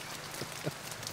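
Rain falls outdoors on a town street where a duo performs outside a closing bakery, heard as a soft, steady hiss with a couple of faint taps and no voices.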